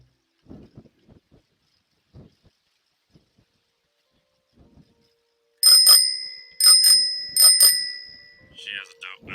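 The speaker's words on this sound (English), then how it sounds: "She has a dope bell. I'm jealous of that bell." A bicycle bell rings loud and close in three bright, quick bursts after a stretch of soft clicks and light handling noise, with a fainter ting at the end.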